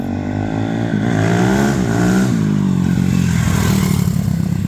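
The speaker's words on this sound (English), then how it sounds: "Big bore 4-stroke power" A Cannondale X440 big-bore four-stroke motorcycle engine running on VP race fuel, loud and close, with a rising and falling rev before settling into a steady, rough idle.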